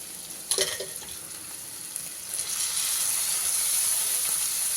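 Cooked bitter gourd and onion curry with fresh lemon juice stirred in a pan just off the heat: a soft scrape and clink of the spoon, then a steady, close frying hiss that grows louder and fills the rest.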